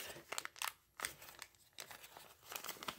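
A sheet of paper is folded in half, giving close, quiet crinkles and crisp rustling bursts separated by brief pauses, with no voices.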